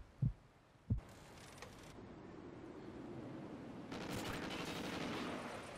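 Two sharp gunshots close together in a multiplayer shooter video game, followed by low rumbling ambience and a rising hiss.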